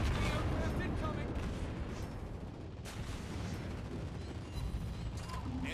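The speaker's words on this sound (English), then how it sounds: "Anti-aircraft gun on full alert." Rapid anti-aircraft gun fire from a US tier 10 Worcester light cruiser in the naval battle game World of Warships Blitz, a continuous dense rumble of steady bursts with battle noise throughout.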